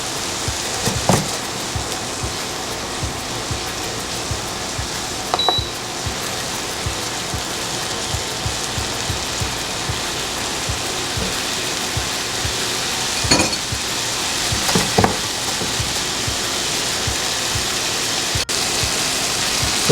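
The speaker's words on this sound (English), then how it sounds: "We're gonna cook until all the vegetable gets softened." Vegetables and spices fry in a pan with a steady broadband sizzle throughout, broken by a few louder stirring scrapes and clatters; no voices.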